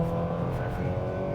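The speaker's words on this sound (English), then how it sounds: "So I'm standing on the brake right now, standing on the accelerator, and drop the brake. Off we go." A 2025 Nissan Sentra SR pulls away from a standing brake-torque start, its engine a steady, dense drone heard from inside the cabin for a brief moment.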